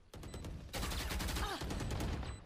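Rapid gunfire in a Valorant esports match: a dense, loud burst of overlapping shots that keeps going for most of the moment, with lighter shots before it.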